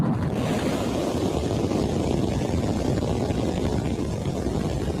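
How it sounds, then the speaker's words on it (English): Raptor engines of a SpaceX Starship V3 rocket, 124.4 m tall and about 5,300 tonnes, at liftoff on its maiden launch, a loud, steady, broadband roar that rumbles on without a break. "We have liftoff."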